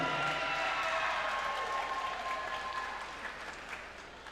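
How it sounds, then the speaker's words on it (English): A pageant audience applauds a contestant, a crowd clapping steadily with a few cheers, tapering slightly toward the end. "Ladies and gentlemen, another round of applause for contestant number 3, Miss Ella Artistic Emporium."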